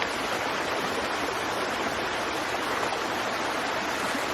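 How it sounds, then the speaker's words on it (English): Water pours steadily through a LifeStraw filter into a cup, a continuous close splashing hiss that holds even for several seconds with no pauses. "I'm trying to demonstrate the water going into the cup, and it's all being filtered out now"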